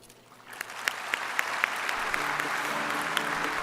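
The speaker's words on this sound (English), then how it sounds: "Let's give President Jovanovic another big round of applause for her meaningful speech." A large audience at the opening ceremony of the XV World Forestry Congress applauds after a speech by President Jovanovic. Scattered claps build quickly into steady, dense clapping that continues evenly to the end.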